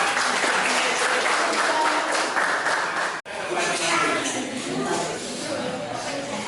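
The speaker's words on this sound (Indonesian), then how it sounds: "Cukup? Cukup? Ya, tepuk tangan." A classroom full of students bursts into loud, continuous applause after a group presentation. The clapping stays dense and steady, cut by one brief dropout midway, then continues.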